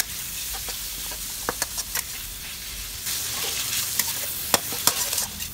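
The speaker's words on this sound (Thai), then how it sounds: "เดี๋ยวเราจะลวนหมูสับกับน้ำมันนะคะ" Minced pork stir-frying in oil in a pan for Thai basil pork with bamboo shoots, a steady loud sizzle punctuated by sharp clicks and scrapes of the spatula.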